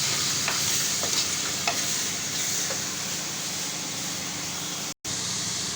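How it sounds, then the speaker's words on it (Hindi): Minced meat roasts in a pan with a loud, continuous close sizzle, broken by a few light stirring scrapes and one momentary dropout near the end. "अब ज़रा से इसको थोड़ा सा रोस्ट करते हैं"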